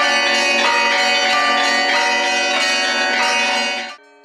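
Monastery church bells rung by hand by a bellringer for Easter, pealing loud and sustained with overlapping strikes for about four seconds before cutting off, with no voices.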